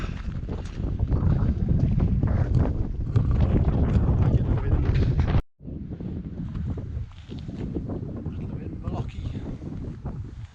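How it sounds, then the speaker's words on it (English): Loud gusty wind buffets the microphone outdoors on a walking trail, a dense low roar that runs steadily, drops out briefly midway, then resumes strongly. "why is the wind always in your face and never behind you?"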